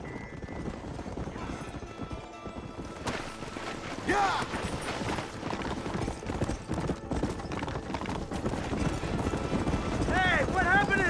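Horses gallop in the Red Dead Redemption video game, with rapid, rhythmic hoof clip-clops that grow louder and busier as more riders join. Shouting voices and a whinny sound over the hooves.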